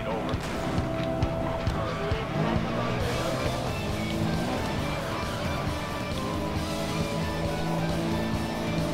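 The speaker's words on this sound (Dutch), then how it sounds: "deze moet je al veel eerder mee slippen om goed door de bocht te komen" A car in Need for Speed Most Wanted (2012) slides around a bend, its engine roaring continuously with tire noise and game music, while someone talks over it.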